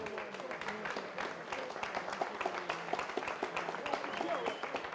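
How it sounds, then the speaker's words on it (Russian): A boxing crowd applauds the winner and his opponent after a knockout, dense continuous clapping with crowd noise and an announcer's voice over it, moderately distant. "аплодисменты победителю и его сопернику!"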